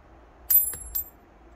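A 100 won coin is dropped from 30 cm onto a force sensor, striking once with a bright metallic clink and bouncing a second time, each hit leaving a thin high ring in an otherwise quiet room.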